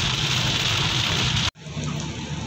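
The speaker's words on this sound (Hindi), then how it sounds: "बारिश बहुत तेज हो रही है।" Heavy night rain in Kota, Rajasthan, pours in a dense, loud, steady hiss on surfaces, broken by one brief cut before the downpour resumes.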